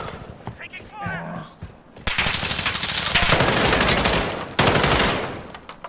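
Rapid automatic gunfire in Call of Duty Modern Warfare on a docks map, loud sustained bursts of machine-gun fire that start abruptly after a brief shout and continue densely, with voices calling out beneath the shooting.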